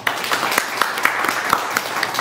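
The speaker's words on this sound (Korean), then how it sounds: "박수로 환영해 주시기 바랍니다" An audience at a seminar in a café claps steadily to welcome a lecturer, a dense burst of applause with a few sharper individual claps standing out.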